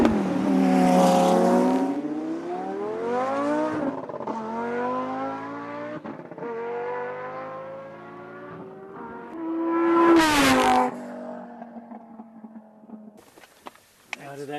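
Lamborghini Gallardo Dastek supercar on a speed run, its engine rising through the gears in long climbing revving sweeps, loud and close, with a sharp surge near the end before settling back.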